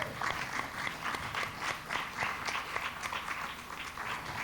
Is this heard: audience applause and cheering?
yes